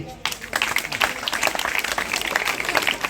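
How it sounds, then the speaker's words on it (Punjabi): A crowd at a school felicitation ceremony for bright students claps loudly and continuously, with dense, close applause after a brief quiet start. "ਬੇਟਾ ਜ਼ੋਰਦਾਰ ਤਾੜੀ"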